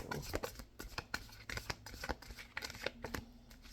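Tarot cards shuffled by hand give a run of quick, crisp riffling clicks and soft slaps, close and fairly quiet, with no one speaking.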